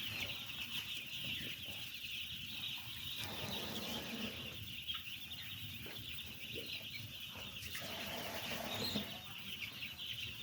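Chickens cluck and murmur inside a poultry shed that once held a thousand birds, a steady faint flock chatter over a constant high hum, with no one speaking.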